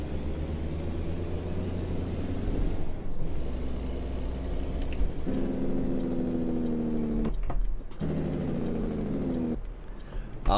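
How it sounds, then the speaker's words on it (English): A Kenworth W900 engine brake in American Truck Simulator, a steady low rumble that shifts in pitch and cuts out briefly at times. No voices are heard. "the engine brake is pretty solid"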